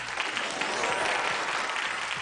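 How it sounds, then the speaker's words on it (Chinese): Dense, steady applause from a studio audience on a Chinese TV job-hunting show, a continuous close roar of clapping that holds evenly from start to finish. "好，掌声给申晨老师。"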